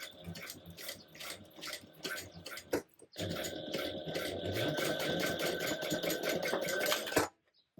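A domestic sewing machine runs a second reinforcing row of stitches inside the seam allowance of a French-seamed tote bag, its motor whirring in a steady, close rhythm. A short pause near the middle breaks the run, then it stitches on evenly.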